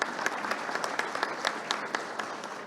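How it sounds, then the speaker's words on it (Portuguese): Audience at a business and economy panel debate claps steadily for a couple of seconds, an even rattle of many hands heard from a distance at moderate volume. "Palmas para Enilson."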